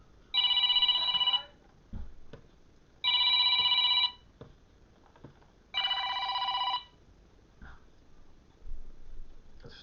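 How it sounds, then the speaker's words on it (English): A telephone rings three times in bright, even bursts with pauses between, fairly close, with a few faint knocks in the gaps. "Sorry, my phone's ringing."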